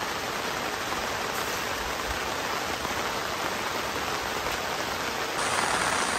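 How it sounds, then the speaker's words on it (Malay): Rain falling on a tent during solo camping on a hillside, a steady dense hiss of drops on fabric that continues evenly throughout with no voices. "Oi, sejuk hujan."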